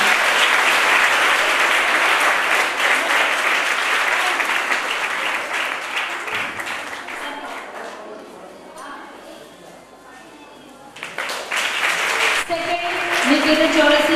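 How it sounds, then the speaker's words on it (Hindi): Loud, steady applause welcomes schoolgirls at a girls' school prize ceremony, dense clapping that fades and thins in the middle, then swells again as a voice speaks over it near the end. "जोरदार तालियों से बच्चों का स्वागत करिए।"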